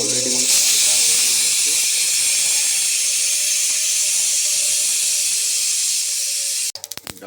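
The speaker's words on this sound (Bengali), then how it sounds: "এই যে ডালের জন্য এখন সর্ষে আর শুকনো লঙ্কা ফ্রাই করছি" Mustard seeds and dried red chillies frying in hot oil for dal give a steady, loud hiss that runs unbroken for most of the span, then cuts off near the end with a few sharp clatters.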